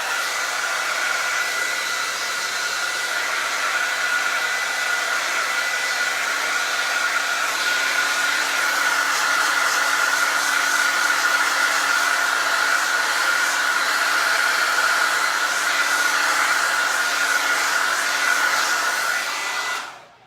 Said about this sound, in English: And then we're going to hit them with a blow dryer to speed this process up.